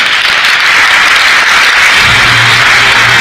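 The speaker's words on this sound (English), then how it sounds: "A huge round of applause, ladies and gentlemen" A large convention audience applauds a Lifetime Achievement Award at the 54th FHRAI Annual Convention in the Taj Cidade de Goa Horizon hotel, with a loud, steady wash of clapping that carries on without letting up and has a low hum underneath toward the end.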